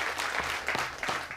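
An audience on a television entertainment show breaks into brief, lively applause, with rapid clapping that swells in bursts over a short stretch.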